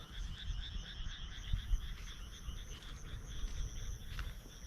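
Frogs croaking in a rice field just after rain, a steady pulsing chorus with insects chirping alongside, moderately distant and uninterrupted by voices.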